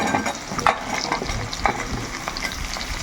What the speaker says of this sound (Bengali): এই পটল, আলু একসঙ্গে ভালো করে একটু কষিয়ে নেব